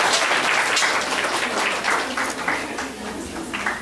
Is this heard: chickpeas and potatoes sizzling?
no